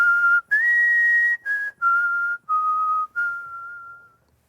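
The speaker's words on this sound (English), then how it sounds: "which I'm going to whistle." A person whistles a simple jazz melody up close, holding clear sustained notes in short phrases separated by brief pauses, the last note trailing away, with nothing else heard.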